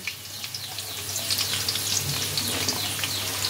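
Pointed gourd added to potatoes sizzles steadily in hot oil for a mixed vegetable curry, a continuous close frying hiss broken by light stirring clicks, with no voices.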